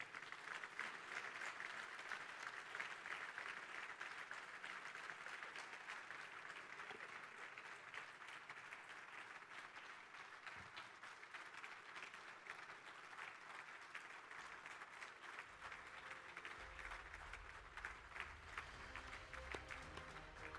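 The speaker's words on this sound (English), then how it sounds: "One final round of applause before we announce the winner." An audience at a global nursing award ceremony applauds in a sustained, dense ovation, even and continuous throughout, with faint voices under the clapping near the end.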